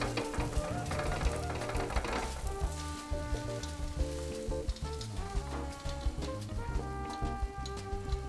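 Leftover rice seasoned with savory salt, soy sauce, sugar and agave fries in a hot pan, giving a steady, soft sizzle that runs continuously at low level.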